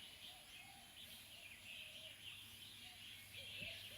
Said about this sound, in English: Now I wonder if you can hear the birds.